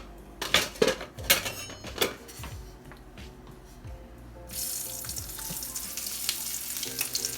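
Potatoes hit hot rosemary and garlic infused oil in a skillet, giving a sudden loud continuous sizzle after several sharp clinks of utensils and pan.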